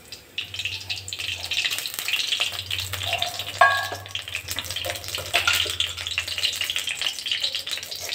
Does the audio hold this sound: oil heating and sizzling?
yes